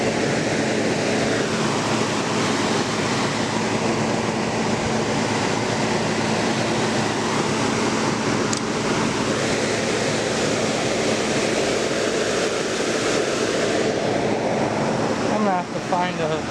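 A 1985 General Electric Carry Cool window air conditioner blows hard, a steady, loud broadband rush of fan air that holds constant for the whole stretch, with a brief rattling flutter near the end.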